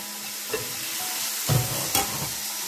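Onions and garlic tipped into a hot pan and frying, with a bright continuous sizzle and a couple of soft stirring scrapes over a few seconds, close and with no voices.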